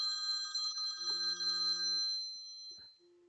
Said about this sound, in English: Just a simple little thing like a cell phone ring right there, it distracted you from what I was saying.